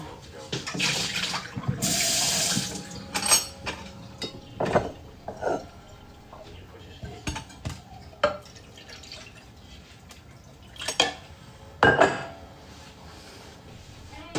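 Fresh tap water runs for a dog in short, splashy bursts with dripping between them, close by in a quiet room, separated by long pauses.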